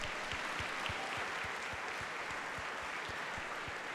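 A crowd in Amsterdam applauding to welcome a speaker at a talk, sustained steady clapping from many hands at moderate volume with no voices.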